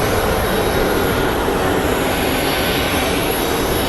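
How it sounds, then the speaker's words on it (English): A United Airlines plane approaches Phoenix Sky Harbor airport, its engines giving a loud, steady, broadband roar that holds without a break for the whole stretch and with no voices over it. "There's our United flight. You can see it on the horizon right now."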